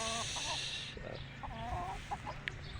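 Gamefowl chickens of the Sweater and Yellow-legged Hatch breeds cluck and call in short bursts, fairly close at a range area, with a faint crowing rooster at the start and a few brief sharp sounds.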